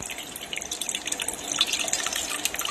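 Tamarind extract poured into a simmering lentil and vegetable curry, a soft trickling, dripping liquid sound that is faint and continuous for a few seconds.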